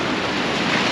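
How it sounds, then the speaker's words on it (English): Sea waves crash steadily against rocks beside a seaside promenade in Limassol, Cyprus, a loud continuous surf roar with some wind buffeting the microphone. "All the waves crashing on the rocks."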